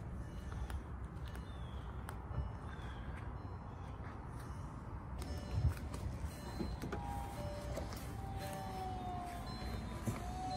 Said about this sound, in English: Easy automatic top operation. Just by a touch of a button.